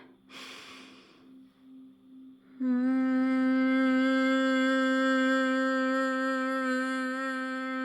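A sharp inhale through the nose, then a steady, loud hum that holds for several seconds at an even pitch, close to the listener.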